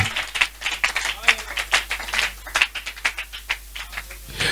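Congregation at an evangelistic campaign service in Brazzaville claps and cheers together, a dense, continuous patter of many hands close by and loud, with voices mixed into the applause.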